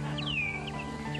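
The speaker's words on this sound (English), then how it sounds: "Then he heard a bird sing." A small brown bird sings in a cage in a cartoon, giving a few faint whistled chirps and one sliding note over a steady, busy background.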